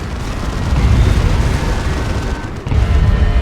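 Loud, close melta bomb blast in Warhammer 40,000: Dawn of War 2, a deep rumbling boom that rolls on for seconds, briefly dips, then surges again.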